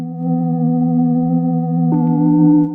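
A sustained synth tone with slightly wavering pitch from the tape wobble effect of the Arturia Pure LoFi, held alone and fairly loud, shifting to a new chord near the end.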